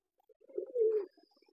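A pet pigeon perched on a hand gives a single soft, close coo lasting about a second, with near silence around it.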